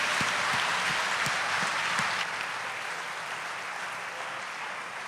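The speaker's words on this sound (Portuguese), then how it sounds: "Aplauda o nome de Yeshua." A church congregation applauds in a dense wash of clapping with a few sharp individual claps early on, the sound holding steady and then easing slightly toward the end.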